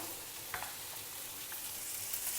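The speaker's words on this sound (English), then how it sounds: "Now mix everything and stir fry it for a few minutes." Boiled, crumbled potatoes with onions and turmeric powder stir-fry in a pan, giving a soft, steady sizzle. A few brief scrapes of stirring sound close by, with no talk.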